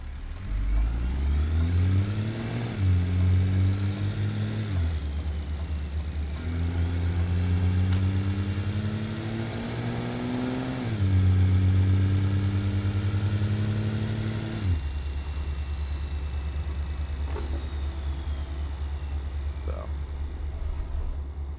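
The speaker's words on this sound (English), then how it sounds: "A little clip of the acceleration with the windows down." A Ram truck engine in American Truck Simulator revs up repeatedly through rising gear shifts with the windows down, each climb in pitch ending in a drop, with steady road noise underneath and no talking.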